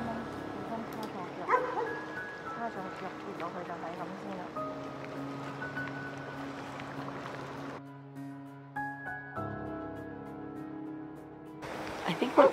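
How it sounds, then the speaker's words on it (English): A dog barks repeatedly in the distance from a boat near an abandoned village at night, over a steady low hum and faint tonal whirring, with soft voices in the background. "you hear the dog barking from one of the boats"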